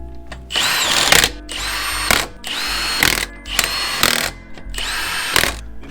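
An impact wrench tightens the wheel hub lug nuts on a 100 series Toyota Landcruiser, firing four loud, close bursts of rattling hammering separated by short pauses.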